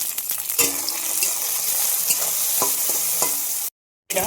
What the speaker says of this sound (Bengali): প্রথমে ভেন্ডিগুলো ভেজে নেব।